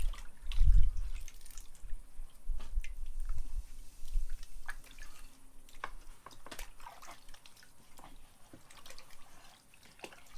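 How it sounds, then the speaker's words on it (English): Water drips and splashes softly as a potter rinses clay-covered hands at the throwing wheel, a few light wet sounds and rubbing, faint and close with no talk. "you need to clean your hands without getting water on the cup now."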